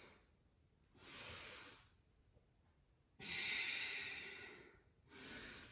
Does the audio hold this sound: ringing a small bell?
no